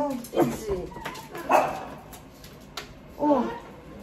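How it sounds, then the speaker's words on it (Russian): A dog barks and yips a few times close by in a cold home setting, with someone talking over and between the barks. "Хватит гавкать."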